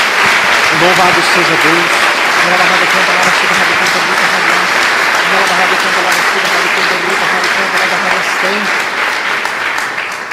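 A congregation at an Easter sermon on the Passover lamb breaks into loud, dense applause that lasts throughout, while a voice speaks over it.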